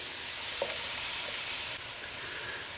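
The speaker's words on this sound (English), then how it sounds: "now that the onions have been cooking for about 3 or 4 minutes, you'll see that they're slightly turning brown" Onions fry in oil over high heat for goulash, giving a bright, even hiss with a faint scrape or two, close by and with no voices.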